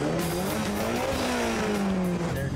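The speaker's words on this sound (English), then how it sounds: "Their car sounds really good" Race car engine at a drag event, tuned for racing, running loud and steady with a rising and falling drone throughout, close and continuous with no talk.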